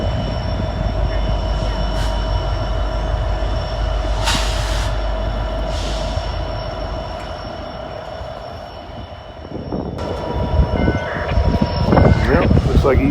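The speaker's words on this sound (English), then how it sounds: "looks like he's following the manifest train" A manifest freight train rumbles past at Gallitzin, Pennsylvania, with a steady low roar, a faint high squeal and a louder rush of rolling cars near the end, with occasional voices in the background.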